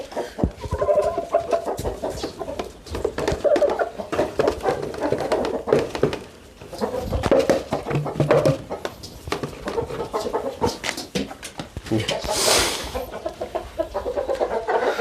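Three hens and a rooster cluck and murmur continuously at close range, a busy, overlapping chatter with occasional louder squawks.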